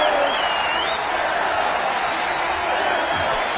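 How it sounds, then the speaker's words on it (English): Crowd noise from a UFC Undisputed 3 bout on Xbox 360, Rashad Evans versus Jon Jones, a steady dense roar of arena spectators chanting continuously throughout, with no clear talk over it. "The crowd now chanting for Rashad Evans."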